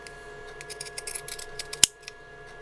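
Pinking shears cutting fabric for a decorative rag doll, heard as a quick run of close, crisp snips building to one sharp final snap, with no talking.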